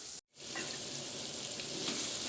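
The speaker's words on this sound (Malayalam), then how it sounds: "ഇതിൻ്റെ ബാക്കിയുള്ള എണ്ണയിലേക്ക് തന്നെ കടുക് പൊട്ടിച്ച് ഇഞ്ചി, വെളുത്തുള്ളി, പച്ചമുളക് എല്ലാം മൂപ്പിച്ചെടുക്കും" Mustard seeds, ginger, garlic and green chilli frying in leftover oil for a soya pickle, a steady close sizzle with faint crackles after a brief dropout near the start.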